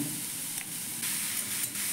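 Vegetables fry in a pan for Kolkata-style vegetable chops, with grated carrot and beetroot among them, giving a steady, close sizzle that swells in brief bursts as the pan is stirred, and no voices over it.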